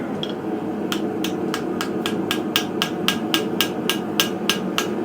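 Close, loud ringing hammer blows fall on a steel hook over an anvil at a forge, about fourteen evenly spaced metallic strikes in a quick, steady rhythm, with no talking.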